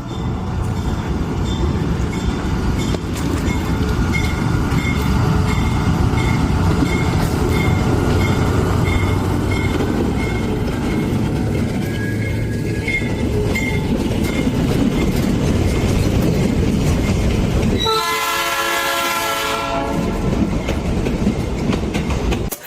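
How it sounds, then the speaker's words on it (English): A train near Machu Picchu rumbles past beside a river with rhythmic clickety-clack of wheels, loud and close, then a horn blares near the end. "Here comes the train, friends."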